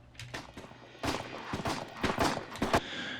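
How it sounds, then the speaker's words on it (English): A burst of gunshot sound effects fires in an irregular sequence of sharp cracks with some heavier booming hits, loud and close, with no talking. "we just put the gunshot sounds there"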